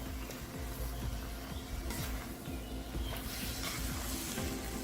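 Guyana black shrimps frying for a jackfruit curry give a continuous loud, close sizzle with a dense crackling hiss and faint stirring scrapes throughout.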